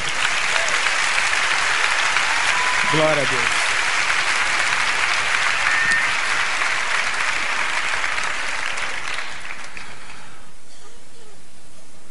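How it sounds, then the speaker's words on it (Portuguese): A church congregation breaks into sustained applause for the word of God, a dense wash of clapping lasting several seconds before fading out, with a voice briefly speaking over it. "Você pode aplaudir a palavra de Deus?"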